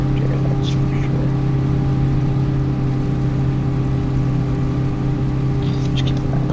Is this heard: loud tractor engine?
yes